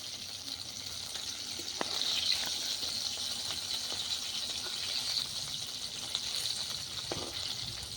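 KFC-style chicken popcorn frying in hot oil on a clay stove: a steady, close sizzling hiss, with occasional light clinks and taps from a utensil.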